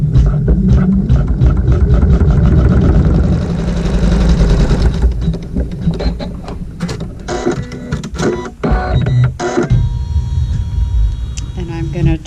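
A sewing machine stitching a tack down on fabric for a quilt block, loud and close, with a rapid steady mechanical rattle that pauses and restarts in shorter bursts, with speech over it.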